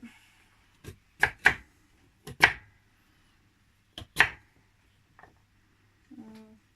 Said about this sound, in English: me actually cutting up a butternut squash